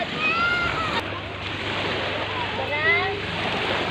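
Sea waves wash and surge at a beach resort, a steady broadband roar of surf with wind across the microphone; voices murmur faintly in the background.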